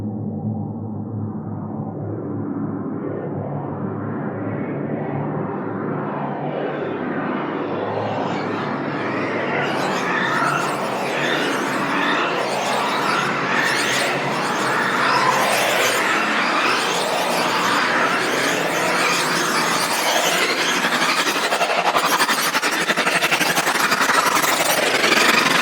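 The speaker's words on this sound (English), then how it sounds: "Now what this is going to do is create a riser effect." Omnisphere synth patch built from black hole recordings, a riser swelling over about twenty-five seconds from a low murmur into a bright, dense roar with sweeping, warbling tones that keep building in loudness and brightness.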